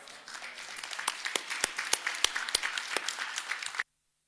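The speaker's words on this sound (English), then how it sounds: "I'd like to give you all a round of applause for all of your hard work over the past 2 days." Scattered applause from a small audience after two days of work, individual claps distinct and close, holding steady for a few seconds before cutting off abruptly into silence.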